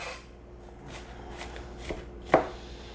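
A kitchen knife chops onions for street tacos on a cutting board, giving a few soft, spaced strokes and then one sharp, close chop, with no talking.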